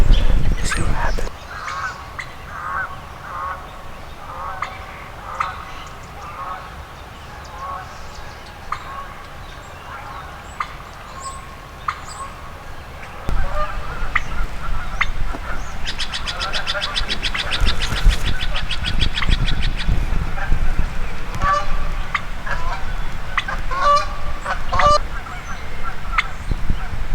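Wild turkey hens calling close by during a spring gobbler hunt, with repeated yelps and clucks in short bursts that grow louder and more frequent in the second half, alongside rustling and handling noise.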